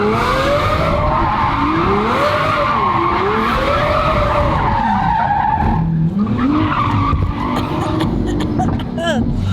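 A Lamborghini spinning all-wheel-drive donuts gives a loud, continuous tire squeal that wavers up and down in pitch over the engine roar, close up, before easing off near the end.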